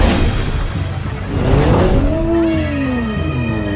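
Cartoon monster trucks race past, engines revving and rising in pitch, with one vehicle's sweeping whine climbing and falling as it speeds by, loud and close.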